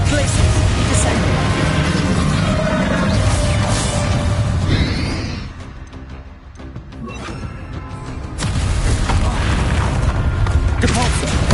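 Spell blasts and explosions cast in rapid succession in Hogwarts Legacy on PlayStation 5, a dense, loud run of booming impacts and whooshes that drops into a brief lull before the barrage resumes.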